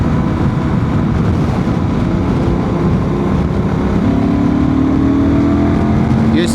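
A Honda Transalp 750 motorcycle with a remapped ECU pulls hard in fourth gear past 4,000 RPM, its engine note steadily rising under heavy, loud wind rush, recorded on board throughout.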